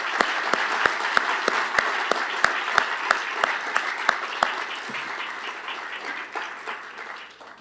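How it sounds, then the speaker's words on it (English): At a university building dedication ceremony, the audience applauds, starting with a sharp, evenly spaced clap beat that melts into a broad wash of clapping, which thins and fades toward the end. "So I really think we owe all of them a good round of applause"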